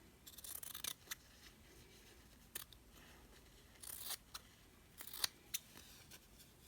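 Scissors snip through material for a handmade magnetic bookmark in short, crisp bursts, several separate cuts, close and quiet in a still room.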